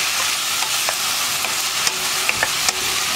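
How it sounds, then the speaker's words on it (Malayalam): Vegetables for Kerala-style kadachakka (breadfruit) stew sautéing in a pan: a steady close sizzle with intermittent clinks and scrapes of a stirring utensil, no voices. "ഈ വെജിറ്റബിൾസ് ഒന്ന് വഴറ്റിയിട്ട് തേങ്ങാപ്പാൽ ഒഴിച്ച് കുക്ക് ചെയ്യുമ്പോൾ അതിന് പ്രത്യേക ഒരു ടേസ്റ്റാണ്."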